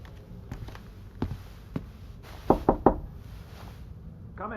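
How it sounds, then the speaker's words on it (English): Knuckles rap on a door in a video game: scattered single knocks followed by a firm cluster of three close, sharp raps, then quiet room tone, with no voices. "Should I knock on the door,"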